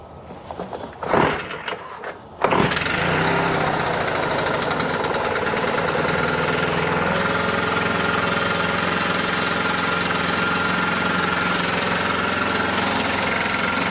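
A Stihl BR800 backpack blower with a pinched fuel line gives a few dull pulls before the engine catches at about two and a half seconds, then runs loud and steady close by.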